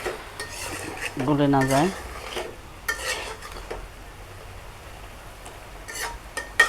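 Hilsa fish frying in a pan is turned gently with a utensil, giving soft scrapes and light metallic clinks over a faint sizzle, with a brief stretch of speech early on.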